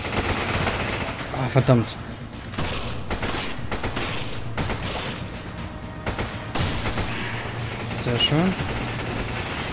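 Gunfire from the video game Resident Evil 5, with repeated shots and bursts spread through the scene under game effects, while a player talks over the action.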